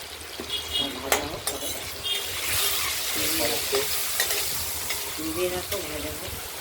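Fish frying in a pan, with a loud, continuous sizzle broken by repeated scraping and stirring clatter from a utensil close by.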